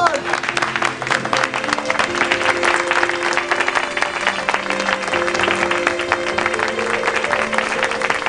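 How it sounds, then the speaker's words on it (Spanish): Sustained applause from a gathered crowd honoring a man at a tribute, steady clapping throughout with voices mixed in beneath it. "Otro aplauso para Melitón!"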